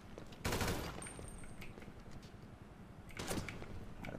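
Video game gunfire: a loud burst of automatic shots, then a quieter stretch, and a second burst near the end over low background noise.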